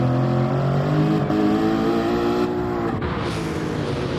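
A race car engine in a racing game drones loudly and steadily, then drops in pitch under braking and a shift down to second gear, revs falling before settling, with no talking.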